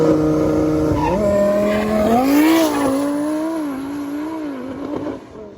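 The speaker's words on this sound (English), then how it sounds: "You can see the car is much slower and the car starts popping once I hit third gear" A drag racing car makes a pass at a cash-days shootout, its loud engine note climbing through the gears with pitch dips at each shift, then easing off and fading toward the end.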